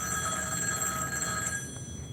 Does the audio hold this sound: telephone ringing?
yes